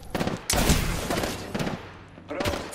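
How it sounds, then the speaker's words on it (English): Gunfire in Apex Legends comes in loud, close bursts of rapid automatic shots separated by brief pauses, with a voice speaking under the shooting. "I'm taking fire"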